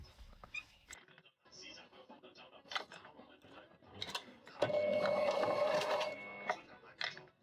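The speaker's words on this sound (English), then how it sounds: "Please don't mind me using a sewing machine." Sewing machine stitching a small leather wallet, a short run of rapid mechanical whirring in the second half, surrounded by scattered clicks and handling noises, with a voice speaking earlier.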